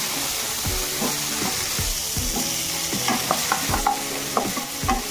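Potatoes frying in oil for a village-style crab curry, a constant loud sizzle and crackle with intermittent scraping and stirring knocks from a utensil in the pan, close up and without talking.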